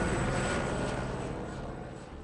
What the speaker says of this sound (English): we find an evacuation helicopter flying in to evacuate an injured climber